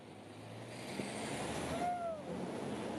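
Truck on a road, its engine rumbling faint and distant, with a brief high squeal of air brakes near the middle; no talking.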